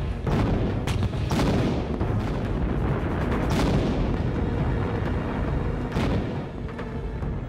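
Heavy naval guns of a warship bombarding land targets, a loud continuous rumble of booming blasts with several sharp reports standing out, no voices.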